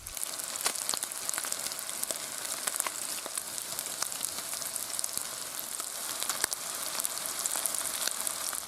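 Crumbed cod pieces frying in a pan with a generous amount of butter, giving a steady, close, crackling sizzle that holds at an even level throughout with scattered sharp pops and no talking.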